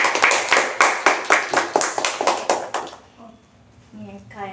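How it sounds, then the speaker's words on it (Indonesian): Hands clapping in a steady, distinct rhythm for about three seconds at a school podcast for SMP Negeri 1 Subang, then fading into a quiet room with a brief voice at the end. "Oke, tepuk tangannya."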